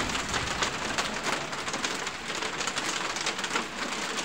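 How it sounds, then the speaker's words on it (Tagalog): Heavy hail mixed with rain pouring down at the start of winter in New Zealand, a dense, continuous patter and rattle on surfaces with no voices. "We call it rainstorm!"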